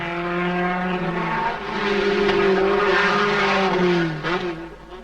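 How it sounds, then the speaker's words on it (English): An Alpine rally car races along a 1973 Rally de Portugal mountain stage, its engine droning loudly with rising and falling pitch as it passes near, then fading with a brief gear change. "Darniche, Alpine number 3, pushes the French further ahead in the heat of the afternoon."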